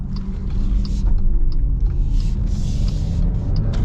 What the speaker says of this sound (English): So it does take a second for that powertrain to kick in.